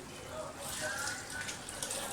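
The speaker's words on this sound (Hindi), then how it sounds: "चावलों का पानी जो है वह मैंने पूरी मेजरमेंट के साथ डाला है" Water streams steadily into a pot of rice for chana dal biryani, a continuous soft splashing gush lasting a couple of seconds, fairly faint and close, with no talk over it.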